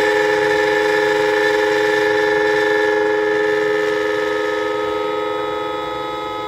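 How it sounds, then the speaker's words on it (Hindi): A steady electric bike horn blares continuously at close range, loud and unbroken, then fades slightly toward the end. "ये हमारा हॉर्न चलेगा, ये देखिए।"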